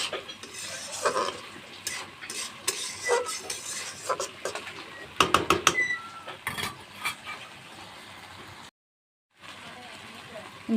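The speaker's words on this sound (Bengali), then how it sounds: "ভাজা শুটকিগুলো দিয়ে দিচ্ছি" Fried dried fish (shutki) is stirred into a frying pan while making a taro-flower dish, with a spatula scraping and clattering against the pan in close, irregular bursts and a short pause of silence near the end.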